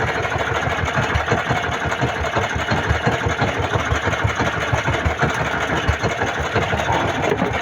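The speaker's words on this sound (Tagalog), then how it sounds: "Malapit nang huminto ang ating makina." A fishing boat's engine idles at sea, a steady close, loud mechanical chug with a dense low rhythmic pulse that runs unbroken throughout, with no voices over it.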